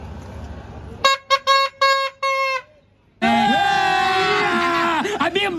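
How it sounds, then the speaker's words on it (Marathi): A loud handheld bhonga horn is blown among a group on a trip to Jejuri: five short, sharp blasts, a pause, then a long piercing, wavering blare, close and ear-splitting. "आवाज कानाचे पडदे फाडणारा भोंगा."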